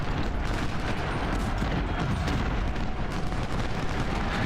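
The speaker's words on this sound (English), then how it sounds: "Our artillery is just firing away, which is fantastic." Artillery fire in the video game Ultimate General during the South Mountain battle, a dense continuous roar of cannon and musket volleys rumbling loudly without pause, with no voices over it.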